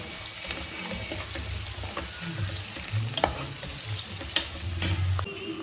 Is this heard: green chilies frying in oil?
yes